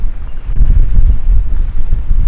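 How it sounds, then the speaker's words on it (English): Strong wind buffets the microphone on high ground above a reservoir, a loud, constant low rumble with gusts and no voices. "Now I'm up high, the wind is catching me."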